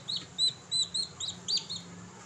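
Newly hatched chicks give a run of high, thin peeping chirps in quick bursts, close by over a faint low background hum.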